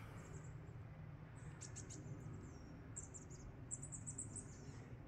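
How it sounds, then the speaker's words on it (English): Faint bird chirps and short tweets come in scattered bursts over a low, steady background rumble outdoors. "Can you hear the birds?"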